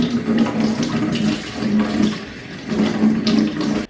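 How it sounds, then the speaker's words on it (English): A tap runs steadily into a sink to wet a makeup brush before cleaning, continuous close splashing water with slight swells in flow and no speech. "So I'm just going to wet my brush."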